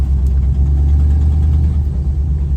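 A 1954 Oldsmobile Series 88 hot rod drives down the street, its engine giving a steady, loud, low rumble throughout with no pauses.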